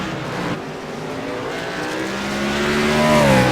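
Race cars run at Sonoma Raceway, engines droning loud and steady with rising revs toward the end, the sound swelling as they approach.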